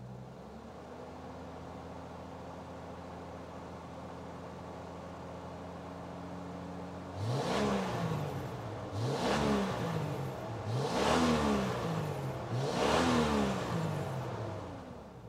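A car engine idles steadily, then revs hard four times in a row as the accelerator is pressed and released during a do-it-yourself diagnosis, each rev rising and falling, close and loud, with no talking.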